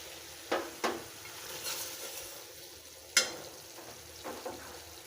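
Onion, garlic and cumin frying in a pan for a spice paste, with a soft low sizzle and a few distinct scraping strokes of a spoon, quiet and close with pauses between stirs, no talking.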